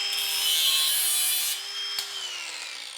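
A steel fitting being sawn off a tube, giving a steady, close rasping cut that runs continuously and eases slightly in intensity partway through, with no voices.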